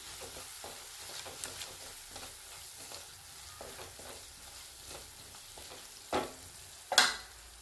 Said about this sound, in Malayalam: ഇനി നമുക്ക് കാശ്മീരി ചില്ലി പൗഡർ ചേർക്കാം. നന്നായി ഇളക്കി കൊടുക്കാം.